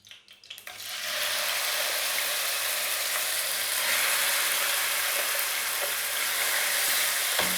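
Marinated chicken drops into a pan of hot oil with a few sharp spatters, then breaks into a steady, loud, close sizzle that holds for several seconds with no talking.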